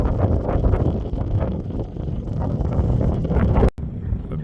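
Strong wind roars and buffets continuously across Sahara dunes in Mauritania, loud and gusty, with a brief dropout near the end.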